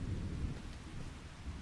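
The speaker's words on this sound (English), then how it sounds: "Oh, it's now going to rain." Steady rain with a low rolling rumble of thunder in the Farming Simulator 25 video game, a continuous dense wash of loud noise with no talk over it.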